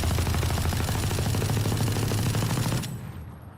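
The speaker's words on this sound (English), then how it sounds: "So you can actually shoot through this wall." Rapid, continuous LMG fire from the video game Valorant, shot through a wall, loud and dense for about three seconds before stopping abruptly.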